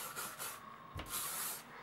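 Hairspray is sprayed onto long hair styled with heated rollers, heard as soft, close hissing bursts with a sharper puff in the middle and no talking.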